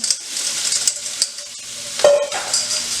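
Vegetables stir-fried with garlic and sesame oil in a pan, steady hiss of sizzling with a few scrapes and one clank of a utensil, close and moderately loud.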